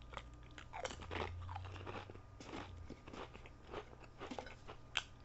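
Someone crunching sour cream and onion Pringles potato crisps up close, with a run of crisp bites and chewing crackles, quiet and close with no talking, ending in a sharper crunch.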